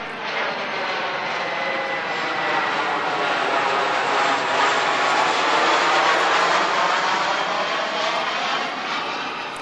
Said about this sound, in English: So let's let this plane go by.